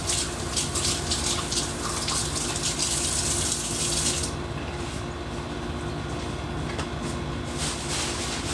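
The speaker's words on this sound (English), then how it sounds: "we're gonna wash the hands" Hands washed under a running tap, a loud continuous gush of water close to the microphone, steady throughout with a slight change in tone midway, no talk.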